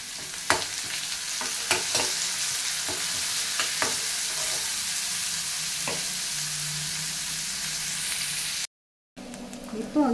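Onions and curry leaves fry in hot oil with a steady broad sizzle, punctuated by sharp crackles and pops from the pan, close and continuous with a brief dropout near the end.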